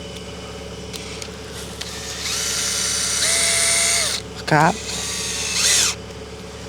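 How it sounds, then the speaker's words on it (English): A power drill whirs in several bursts, rising and falling in pitch as it bites into a corrective hoof cuff on a foal, with a brief voice speaking between runs. "Drill it into that corner."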